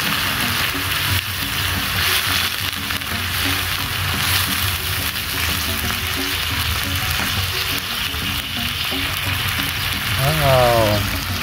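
Water poured into a frying spice paste for a banana-leaf mortar relish, a dense continuous sizzle with stirring scrapes, close and steady, swelling slightly near the end.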